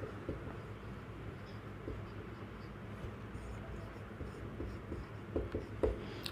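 Chalk or marker scratches and taps on a classroom board in short, irregular strokes, faint and close, with pauses between bursts and some background room noise.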